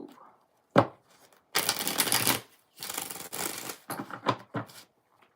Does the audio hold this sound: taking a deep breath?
no